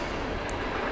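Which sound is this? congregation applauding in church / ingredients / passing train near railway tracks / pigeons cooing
passing train near railway tracks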